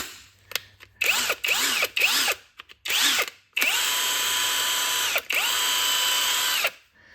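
Makita 18V drill running on a replacement 6.0Ah battery, whirring in short bursts that rise and fall before two longer steady runs, all close and loud with no talking.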